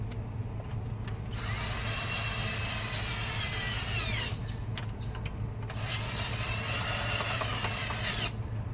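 A power driver tightens the mounting bolts on a Volvo DPSM boat outdrive, whirring steadily and close with a few brief surges in pitch and load across several seconds.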